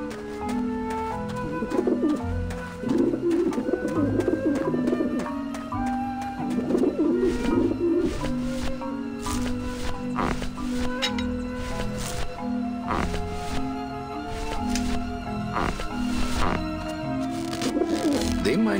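Pigeons or doves cooing in the Grim Fandango Remastered video game, steady soft coos repeating across the scene over a continuous musical backdrop.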